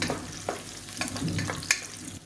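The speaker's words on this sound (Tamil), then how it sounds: "இப்போ எண்ணெயிலே நல்லா வதக்கி விட்டுக்கலாம்" Sliced radish, onion and green chili sauté in hot oil for a vegetarian kuruma, giving a soft, steady sizzle with a few sharp spoon clacks against the pan over about two seconds.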